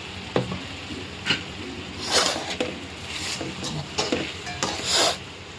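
Curry stirred in a pan on the stove, with scattered scraping strokes and soft sizzling in short bursts, fairly quiet and close, with no voices.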